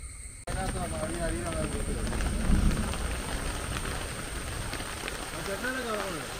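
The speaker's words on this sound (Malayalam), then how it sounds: "മഴ എത്ര വേണമെങ്കിലും പെയ്തോളാം ഇടി വെട്ടാതിരുന്നാൽ" Steady rain hisses and patters across surfaces while people talk nearby over the downpour.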